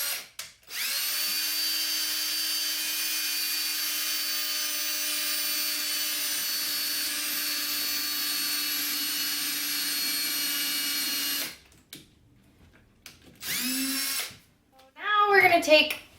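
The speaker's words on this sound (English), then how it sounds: "now I'm gonna take the drill. And again, just pre-drill these holes." A power drill pre-drilling holes in a solid wood door whirs steadily at high pitch for about ten seconds, close by, then stops; brief bursts of whirring and a short voice follow.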